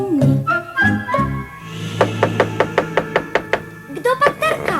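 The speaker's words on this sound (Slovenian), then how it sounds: "Kdo pa trka?" A rapid series of about ten sharp knocks on a door sounds from 2 to 4 seconds, close and evenly spaced, in a children's folk tale. A narrating voice speaks before the knocks and resumes after them.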